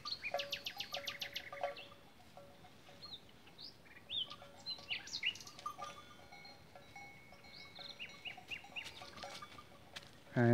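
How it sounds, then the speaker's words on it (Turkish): Wild bird singing near its nest out among grazing livestock: faint, scattered chirps and short whistled phrases drift over a quiet outdoor background, with a bell clinking now and then and a louder bump at the very end. "Eşi de orada ötüyor."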